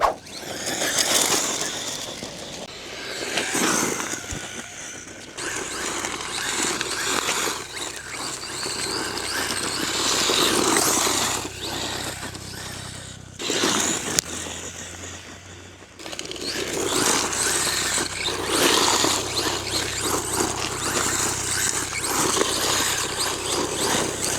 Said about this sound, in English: This buggy packs quite a punch. Does pretty good on this gravel.